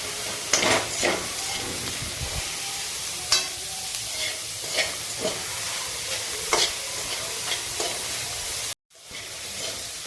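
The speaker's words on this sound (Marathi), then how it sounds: "कांदा हा पहिल्यांदा तेल न टाकता चांगला परतवून घेते।" Onion dry-roasted in a pan without oil for a Marathi dried-fish chutney, a constant hissing sizzle broken by regular scraping stirs of the spatula, close and steady until a brief cut near the end.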